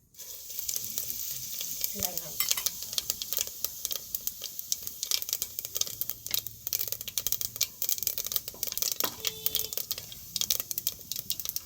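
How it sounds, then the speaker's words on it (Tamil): Fennel seeds crackle and sizzle in hot oil for a mutton trotter curry, a close, busy spatter of fine pops over a constant frying hiss, with occasional stirring clinks. "எண்ணெய் நல்லா சூடாகிட்டு இப்போ வந்து சோம்பு போட்டுக்கலாம்"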